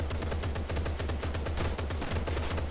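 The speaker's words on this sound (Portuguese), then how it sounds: "Tô escutando tiro, mas não tô ouvindo nada." Rapid bursts of automatic gunfire in the video game Gangstar New Orleans, a fast rattling series of shots continuing steadily throughout, fairly quiet in the mix.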